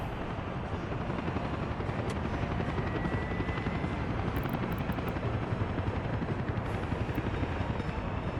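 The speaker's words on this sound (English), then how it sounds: "Where's the other helicopter?" A video-game helicopter's rotor thumps in a steady, rapid chop with a constant engine drone, sounding close and continuous throughout, in Workers & Resources: Soviet Republic.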